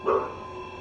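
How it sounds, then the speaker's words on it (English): A pet dog gives a single short bark near the start, fairly close and moderately loud, then fades into a steady faint room hum with no talking. "If you hear my dog barking, sorry for that."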